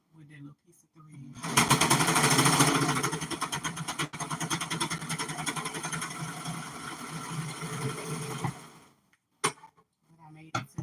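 A sewing machine stitches a satin hair bonnet in one long, fast, steady run of rapid mechanical chatter, close and loud, starting after a short pause and stopping abruptly, followed by a few soft clicks.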